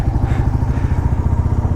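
Royal Enfield motorcycle riding slowly off-road, a loud, close, steady low thumping engine beat with a rapid even rhythm.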